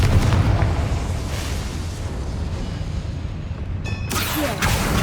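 A Confringo fire spell blast in Hogwarts Legacy: a loud, sustained rumbling roar of explosive noise that holds steady, then ends in a sharper crackling burst.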